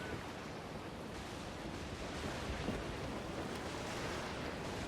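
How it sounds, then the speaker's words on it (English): Ocean waves surge around a sailing ship in Assassin's Creed Black Flag, a broad steady hiss and roar of rushing water with wind, moderately loud and unbroken, with no voices. "Waves are surged!"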